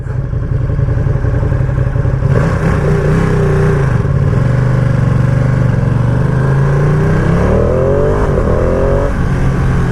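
Ducati Panigale V2 motorcycle engine revving loudly in city traffic, its deep rumble echoing off surrounding buildings, with rising and falling throttle blips and a steady close exhaust drone throughout.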